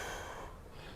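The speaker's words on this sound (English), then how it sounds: "Fully empty out, exhale." A long, steady exhale during yoga breathing practice, emptying the lungs fully as preparation for Uddiyana Bandha: a soft, close breathy rush that starts strong and fades over about a second.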